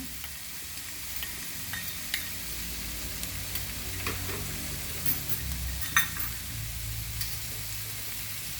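Turmeric and grated coconut hit a hot pan and are stirred, a low steady sizzle with occasional soft clicks and scrapes of the spoon, close and fairly quiet throughout.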